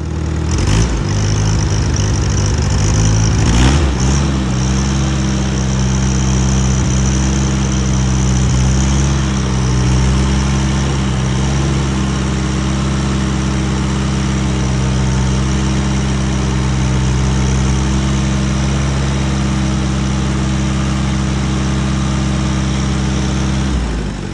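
Allis Chalmers D-14 tractor engine runs steadily after a coil repair, a loud, close, continuous idle with a slight unevenness and a few knocks near the start.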